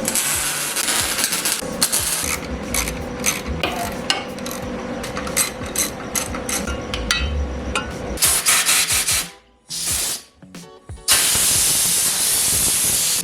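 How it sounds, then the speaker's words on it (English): Tack welding nuts onto the underside of a mini bike frame, with loud crackling, hissing arc bursts in several separate runs broken by short pauses, close up, then a steady harsh buzzing hiss at the end. "I'm going to go ahead and tack these nuts on the bottom"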